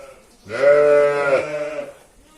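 A single long, loud bleat from a sheep close by at feeding time, wavering for about a second and a half before fading.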